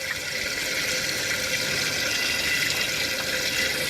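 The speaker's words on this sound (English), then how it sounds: "Water's flushing out okay." Water flushes steadily out of a car's cooling system, a continuous broadband rushing and splashing stream that holds an even, loud level throughout with no pauses and no voices.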